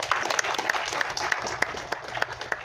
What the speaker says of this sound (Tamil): தயவு செஞ்சு ஒரு கைத்தட்டல் கொடுங்க